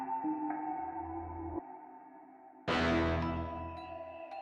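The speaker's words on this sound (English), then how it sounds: "for a backing track I based it around this reverb kind of pluck sound." Soft synth tones ring out, pause, then a bright plucked chord strikes and decays with a long, washy reverb tail.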